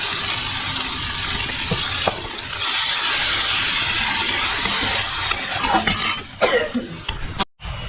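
Sweetened water poured into hot oil for a Bengali pabda fish curry, a bright sizzling hiss swelling as the liquid hits the pan, followed by stirring clatter and bubbling, close and loud.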